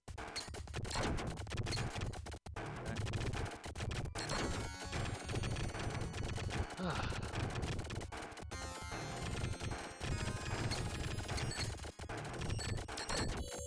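Dense bullet fire in a shmup video game, a continuous rattling barrage of rapid shots and crashes mixed with busy game effects, loud and unbroken except for a few short gaps.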